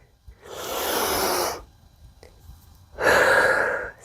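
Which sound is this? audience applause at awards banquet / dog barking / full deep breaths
full deep breaths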